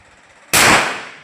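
A single sharp gunshot at a target-shooting range in San Isidro, Bacolor, Pampanga, cracking loudly out of a quiet background and ringing off with a long decaying tail.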